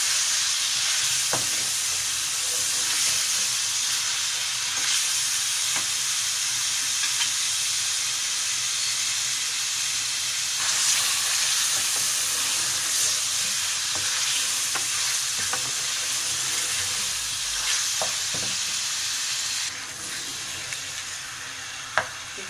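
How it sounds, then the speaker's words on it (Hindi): Ginger garlic paste sizzling and frying in a pan while haleem is prepared, a steady loud hiss with occasional stirring scrapes and clicks throughout, no voices. "अदरक लहसुन का पेस्ट डालेंगे। और अच्छे से इसको भूनेंगे।"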